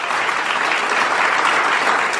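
A studio audience applauds, a dense, steady wash of clapping that stays loud and even throughout with no voices on top.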